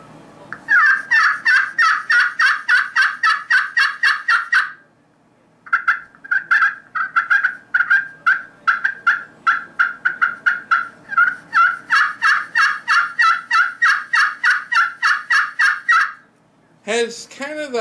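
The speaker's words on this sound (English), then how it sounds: "This is the Primos Power Crystal." A Primos Power Crystal glass friction turkey call produces rapid runs of sharp yelps and clucks in rhythmic bursts, loud and close, with a short pause partway through and no talking.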